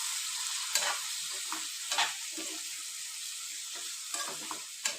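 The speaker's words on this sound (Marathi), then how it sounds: "तर आपल्याला हे मिश्रण आहे परत एकदा परतून घ्यायचं आहे." A dal mixture with salt and turmeric is sautéed in a pan, a steady high sizzle broken by a few sharp scrapes of the spoon every second or two, no voices.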